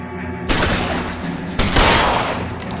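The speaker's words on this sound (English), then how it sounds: "Oh, I shot him, but that was not a headshot." Two loud, close gunshot bursts in L.A. Noire on PS4, each a sharp crack that rings out and echoes before the next.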